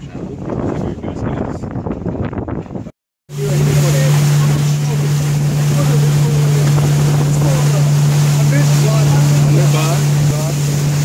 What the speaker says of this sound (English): Silver tip boat and we're going to the lighthouse to dive